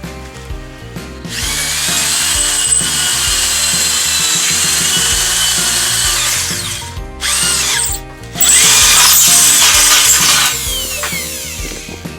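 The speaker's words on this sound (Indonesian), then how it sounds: "Nah, oke, ini mulai dibor di sini, nanti tembus sampai sana, baru setelah itu dibaut." A power drill bores through a galvanized steel greenhouse frame with a loud, sustained whine that runs for several seconds, pauses briefly, then resumes even harsher, with no one speaking.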